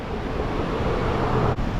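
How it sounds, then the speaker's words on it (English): Waterfall at a salmon hatchery in Alaska, a steady broadband rush of falling water that stays loud and even throughout, close by with no voices. "look at this waterfall on this side."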